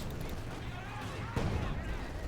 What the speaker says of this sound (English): mortar firing down